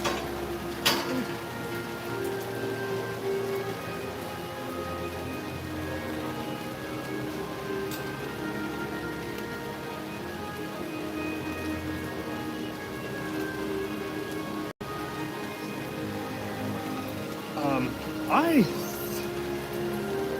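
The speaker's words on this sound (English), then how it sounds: "I understand it's raining" Steady rain falls outdoors at EPCOT, a constant hiss and patter that continues throughout, with a few brief sharper sounds near the end.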